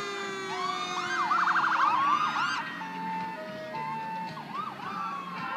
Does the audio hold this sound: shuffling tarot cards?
no